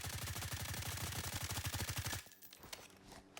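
A fast automatic burst of gunfire in Blackhawk Rescue Mission 5 fired from a prone position, rapid evenly spaced shots for about two seconds, then abruptly stopping, leaving faint clatter and quiet.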